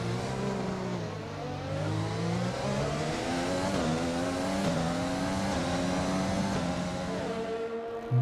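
Formula 1 race cars with Mercedes engines in the F1 2020 video game at Monza, a steady high-pitched engine whine climbing through gear changes, continuous and fairly loud.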